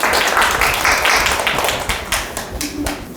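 An audience at a Jeju women's and family policy forum claps to welcome a research fellow to the podium. The applause is a dense, steady patter of many hands, close and loud, that tapers off slightly toward the end.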